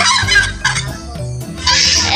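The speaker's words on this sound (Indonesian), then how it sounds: "ini ayam kalkun" A turkey gobbles loudly in several rapid, rattling bursts, close by, with short pauses between calls.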